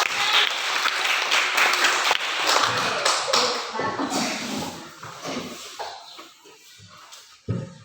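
Schoolchildren clapping their hands in a classroom, a burst of many claps with patterned taps and shuffling that fades out, then a final thump, with voices mixed in.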